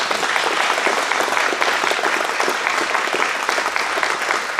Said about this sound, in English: Let's give a round of applause for Dale.